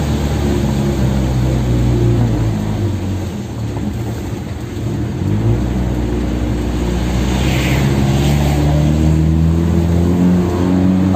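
A heavily loaded Mitsubishi L300 pickup truck drives in low gear, its engine droning loudly and steadily with a deep, strained hum that dips briefly then rises again, accompanied by road noise and a faint squeal.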